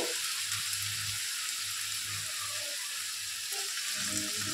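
Elephant foot yam stalks fry dry in a pan over low gas, giving a steady, close sizzle with soft crackles and occasional stirring scrapes throughout.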